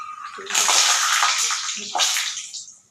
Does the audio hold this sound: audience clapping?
no